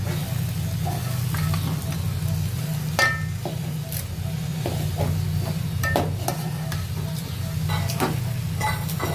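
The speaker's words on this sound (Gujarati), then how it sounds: "હવે પલાળેલા પૌવા તેમાં એડ કરી દઈએ। પૌવા પણ સરસ મોકળા થઈ ગયા છે, તેમાં નાખી અને મિક્સ કરી લઈએ।" Soaked poha being stirred into a pan of potatoes for batata poha, a steady sizzle with scattered scraping clicks of the spoon against the pan, no talking.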